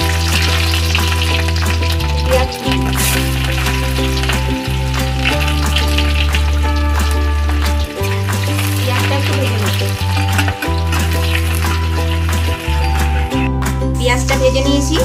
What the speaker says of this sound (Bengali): তেলটা গরম করে নিয়েছি, দিয়ে দিচ্ছি শুকনো লঙ্কা, পাঁচ ফোড়ন,